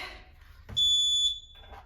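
A workout interval timer alarm gives a single loud electronic beep, a steady high tone lasting about half a second, at the end of an exercise interval.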